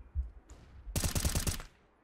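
Counter-Strike gunfire: one dull thump, then a rapid burst of about seven automatic shots cracking in quick succession before fading out.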